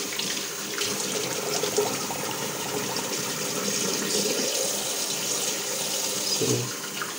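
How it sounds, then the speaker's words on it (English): Cold tap water running into a sink while a face is rinsed after a wet shave, a continuous splashing flow with small hand splashes, close and moderate in level. "Cold water rinse and wash up my face with cold water."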